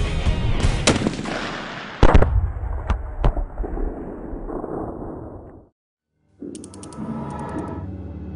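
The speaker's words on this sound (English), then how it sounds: "destroying technical targets is a large-caliber Tor sniper rifle" Polish Tor large-caliber sniper rifle firing 12.7 mm rounds: a few heavy, sharp shots in the first seconds, each followed by long rumbling echoes, then a brief silence and a further stretch of loud, rolling blast noise.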